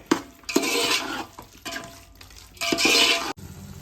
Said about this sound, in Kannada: ಮೊಸರು, ಇದಿಷ್ಟು ಚೆನ್ನಾಗಿ ಮಿಕ್ಸ್ ಮಾಡ್ಕೊಳ್ಬೇಕು.